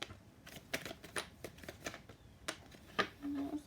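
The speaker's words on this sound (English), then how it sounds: "Shuffle these cards." Oracle cards being shuffled by hand, a run of quick papery riffles and soft slaps in an uneven rhythm, close and fairly quiet, with no talking.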